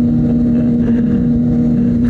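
Steady, loud inline-four engine drone of a Kawasaki ZX6 sport motorcycle running close by, a constant even hum with no pauses and no voices.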